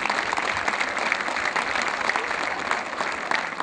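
Crowd applause at an outdoor town square celebration honoring a women's basketball club's national championship, here for the club's sponsors; steady, dense clapping sustained throughout, moderately loud and fairly close, with no talk over it.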